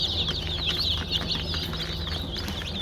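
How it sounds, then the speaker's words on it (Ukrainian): Busy chorus of young chickens peeping and clucking close by, high chirps overlapping continuously over a low background hum. "наловила курчат, це меншенькі, дивіться, діловки"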